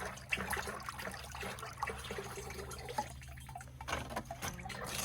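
Wet ceramic dipping glaze is scraped through a sieve, giving a continuous close rasping, sloshing sound with small irregular bumps and no talk.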